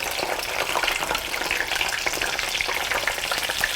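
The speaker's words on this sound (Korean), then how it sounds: "기름에다 튀겨서 날리셔야 돼요." Tofu frying in hot oil sizzles with a steady, dense crackle, close and continuous throughout with no voices.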